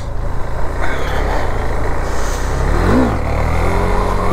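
A KTM Duke 390 motorcycle engine drones loudly and steadily during a wheelie attempt, with a rising and falling rev swell near the end, close to the rider.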